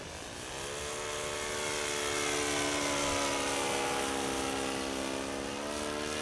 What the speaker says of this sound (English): I'll do one more flyby and I'll try landing.